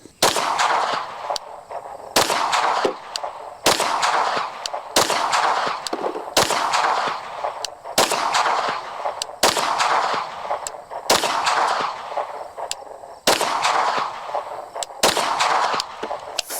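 A Canik Mete SFX Pro pistol with a 5.74-inch barrel fires a string of loud, sharp gunshots at a steady pace, about ten reports, each with a ringing decay before the next.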